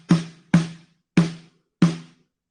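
Snare drum muffled with a Big Fat Snare Drum dampener, struck four times at a steady, unhurried pace, each hit short, fat and dead with a quick decay, close and loud with no talking.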